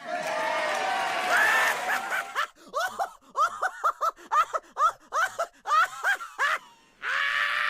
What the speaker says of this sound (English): Ladies and gentlemen, a round of applause for the intellectually stimulating I Know My Rights guy